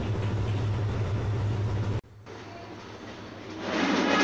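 Banalata Express passenger train in a Bangladesh train simulator game, running on the Rajshahi to Abdulpur line: a steady heavy rumble that cuts abruptly, then a quieter rolling hum that swells again as the train draws nearer.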